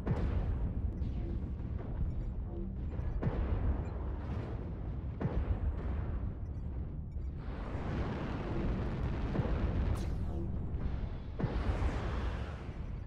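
Heavy artillery explosions in the MechWarrior Online video game, a string of deep booming blasts and rumbling bursts that keep landing close and loud, with no talking over them.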